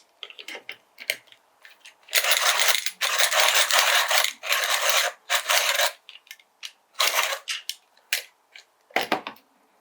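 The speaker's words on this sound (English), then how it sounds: "I'm just going to sharpen the white." A white Derwent Lightfast coloured pencil being sharpened, close-up bursts of dry scraping and grinding from the sharpener in uneven strokes, some long and some short, separated by brief pauses.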